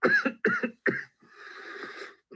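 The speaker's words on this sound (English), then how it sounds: "That's why I'm coughing right now." Three harsh coughs in quick succession in a smoky room, followed by a rough, raspy throat-clearing sound, close and fairly loud.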